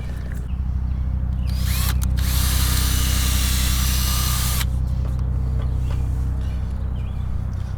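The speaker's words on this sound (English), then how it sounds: "we're gonna drill a couple holes in the sidewall and get some foam in there" A power drill bores holes into the sidewall of a riding lawn mower tire. It runs as a loud, continuous whine for the whole stretch, with a harsher, brighter burst in the middle.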